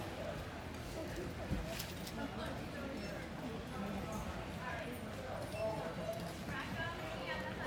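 Horse hooves clip-clopping on the ground as the horse is worked in hand during a riding class, soft irregular footfalls under a steady low background.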